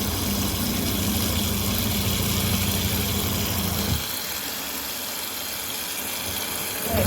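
A portable twin-tub washing machine spins with a loud, steady motor drone and vibration, then the drum note drops away partway through, leaving a softer whirring rumble.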